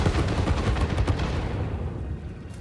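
Explosives detonating in the video game Satisfactory: a loud, dense burst of overlapping blasts and rumbling booms that gradually fades and thins out over a couple of seconds, with no talking.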